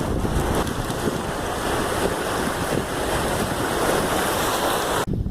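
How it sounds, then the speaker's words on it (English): Strong wind gusts buffet the microphone beside the shore of Lake Winnipeg at Gimli, with waves washing in underneath; a steady, loud, roaring blow that drops out abruptly near the end. "Windy day today"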